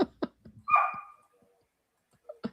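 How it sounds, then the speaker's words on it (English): Indoors, a dog lets out one short bark amid faint scattered knocks and clicks, with stretches of near silence. "Dog doesn't bother us, just so you know."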